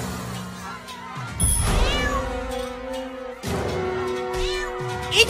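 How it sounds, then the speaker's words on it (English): A cat meows in the South Park: The Stick of Truth video game, giving a few drawn-out, wavering meows close up over quiet game background sound. "That's a bad kitty!"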